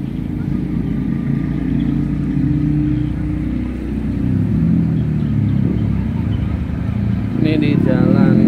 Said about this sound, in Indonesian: Roda dua melintas nah, seperti ini.